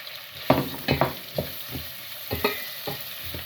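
Sliced onions frying in a pan for a Sylheti-style hilsa fish curry with muki, with quiet crackle broken by several distinct scraping stirs at irregular intervals, close up and without talk.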